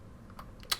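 Computer keyboard keys tapped while typing code, a few soft clicks ending in one sharper, louder keystroke, close and alone.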